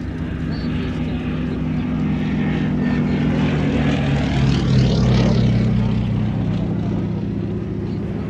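Westland Lysander, an 870 horsepower propeller aircraft, flying at a Shuttleworth race day air show, its radial engine giving a loud, continuous droning roar throughout, with a commentator's voice over it.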